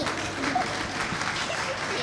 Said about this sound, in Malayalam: ഒരു പിശുക്കും കാണിക്കാതെ ഒരു നിറഞ്ഞ കൈയടി തീർച്ചയായിട്ടും ഈ കുരുന്നുകൾക്ക് കൊടുക്കണം